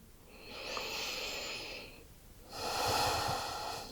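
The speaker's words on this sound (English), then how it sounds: "Last breath, deepest one." Slow, deep breaths during a yoga stretch, a long audible inhale followed by a pause and a fuller, breathy exhale, close and clear with no speech.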